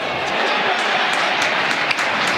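Football crowd at a Carlton vs Melbourne AAMI Community Series match, a dense wash of applause and cheering from a large distant crowd, steady and loud, with a commentator's voice faintly underneath.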